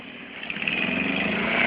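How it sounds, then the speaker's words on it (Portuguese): Several dirt motorcycles rumble down a steep muddy hill trail, a steady buzzing engine drone that swells slightly as they draw nearer. "Olha as motos lá"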